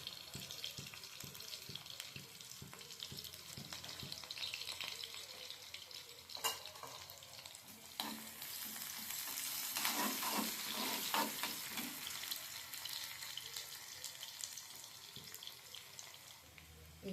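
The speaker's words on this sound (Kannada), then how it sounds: "ಚೆನ್ನಾಗಿ ಫ್ರೈ ಆಗಲಿ ಆನಿಯನ್ನು." Onion frying in a pan for a Kannada-style brinjal gojju, a quiet, steady sizzle with occasional scraping and stirring, swelling briefly louder midway before settling again.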